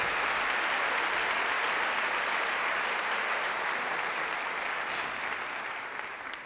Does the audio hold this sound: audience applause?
yes